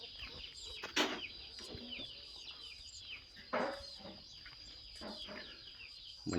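Chickens cluck and squawk in short bursts close by, several sharp calls rising over a steady high-pitched insect-like whine in a quiet rural yard, with no speech.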